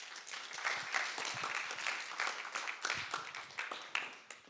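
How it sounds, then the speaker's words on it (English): Warm audience applause at a tech investment conference session in Berlin, a quiet, fairly distant crowd clapping with a rippling, slightly uneven texture that swells and dips throughout. "please, a warm applause for Karina as well"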